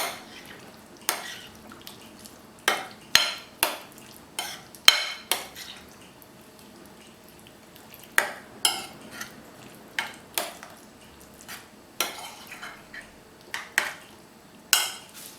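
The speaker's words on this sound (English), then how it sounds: "Stir in the vegetables which have been chopped and nicely washed." A spoon stirs chopped, washed vegetables into a bowl of raita, giving a dozen or so sharp clinks against the dish at uneven intervals, close and alone over a quiet background.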